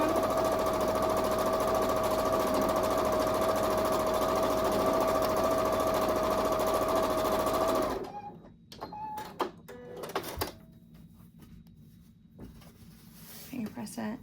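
A sewing machine stitches a seam on a Hunter's Star quilt block, a loud steady mechanical whir running alone for about eight seconds and then stopping, followed by quieter handling noises and soft speech.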